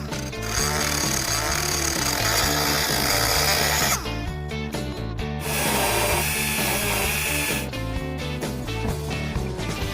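Power tool cutting through a fiberglass hood scoop with its opening still molded closed, a loud steady grinding whine running continuously with a brief dip partway through, no talk over it.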